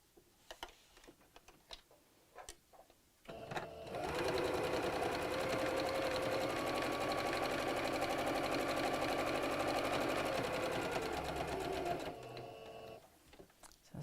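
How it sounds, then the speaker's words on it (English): Sewing machine sewing a straight stitch on an Easter bunny door hanger, a steady rapid whirring run of about eight seconds, with quiet clicks and handling before and after. "I'm just going to use a straight stitch, and again from the top, but I'm not going to sew across the straight side"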